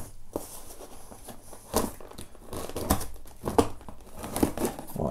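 Plastic shrink-wrap on a Fullmetal Alchemist manga box set being cut and peeled open, with irregular crinkling, tearing and crackling bursts close to the microphone, no talking.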